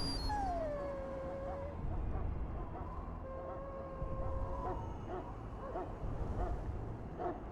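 A dog whimpering in the Dragon Age Origins game, high thin whines and drawn-out howl-like cries rising and falling over a low ambient rumble, moderately close, with faint background sounds between cries.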